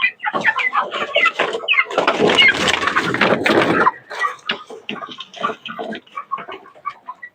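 Backyard chickens feeding on madre de agua leaves cluck busily and close up, with a dense burst of clucking and scratching in the middle, then scattered clucks and pecks.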